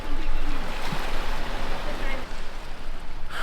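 Sea water washes on a beach at Saranda, Albania, a continuous broadband wash with wind-like noise, fairly loud and steady and close by, without any distinct wave breaks standing out.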